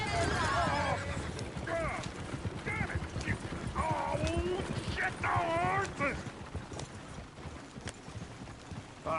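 A horse in a cowboy video game neighs and whinnies repeatedly while its hooves clip-clop steadily, with character voices talking over the animal sounds throughout.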